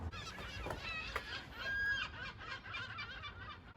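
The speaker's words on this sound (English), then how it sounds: "Can you hear the cheek of those fucking seagulls laughing at my paint job?" Seagulls call and laugh outdoors in a driveway, several overlapping squawking cries at middling distance over a steady background hiss.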